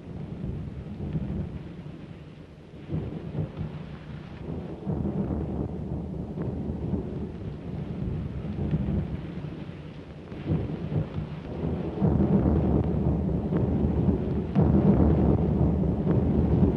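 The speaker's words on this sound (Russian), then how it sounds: "Ветер как будто бы. Хороший ветер." Strong wind roars and buffets steadily, a deep continuous rumble that grows louder toward the end, with no voices.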